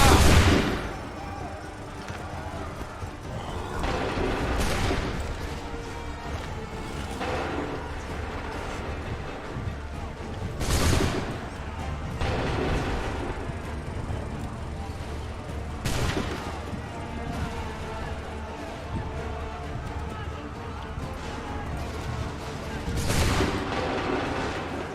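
Repeated musket volleys crack out across a battlefield in Assassin's Creed III Remastered, several sharp broadband bursts spaced a few seconds apart over a constant rumbling battle din, with a voice heard briefly.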